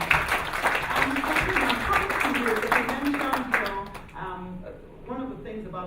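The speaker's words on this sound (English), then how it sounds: "Can we give him a round of applause, please?" An audience at a property investment event claps for a speaker, the applause filling the first few seconds before thinning out as a voice takes over and talks alone.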